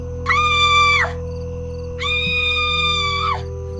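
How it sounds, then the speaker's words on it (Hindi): A loud, terrifying scream sound effect rings out in two long, shrill bursts separated by a short pause, with a steady low hum underneath. "वो चीख बहुत भयानक थी,"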